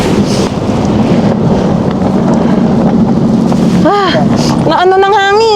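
Strong wind buffets the microphone outdoors near a parked car, a loud, rough roar throughout, with excited voices shouting over it.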